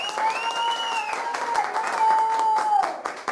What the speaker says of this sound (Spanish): Otro aplauso, por favor.